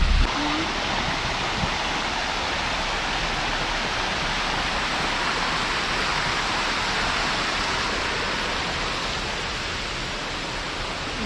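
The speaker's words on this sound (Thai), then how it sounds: "ได้ยินเสียงน้ำตกยังครับ" Sai Yok Noi waterfall in Kanchanaburi, Thailand, roars loudly and steadily. The dense, unbroken rush of falling water fills the whole clip, with no talking over it.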